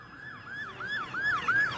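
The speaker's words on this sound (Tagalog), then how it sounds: "Walang tigil ang daan ng mga ambulansya." Wailing ambulance siren sweeping up and down in a steady repeating rhythm, growing louder as it approaches through a village road, with a low vehicle rumble beneath and no voices.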